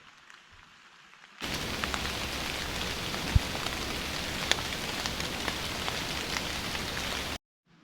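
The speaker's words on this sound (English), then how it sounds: "If it ever stops raining" Steady rain falls outdoors during a deer hunt, a dense even hiss of drops on surfaces that starts abruptly and runs continuously, fairly close and loud, with no talking.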